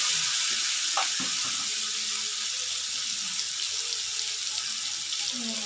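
Prawns dropped into hot oil for a Bengali onion-and-prawn dish, giving a steady, close hiss of sizzling frying with faint clinks of utensils, no voices.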